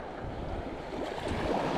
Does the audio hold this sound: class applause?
no